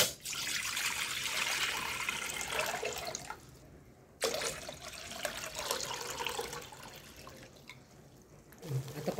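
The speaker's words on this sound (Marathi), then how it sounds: "आता आपण 2 तांबे पाणी टाकू" Two copper pots of water poured into a pot for spiced kadha, one steady splashing pour followed by a second after a short pause, close and moderately loud.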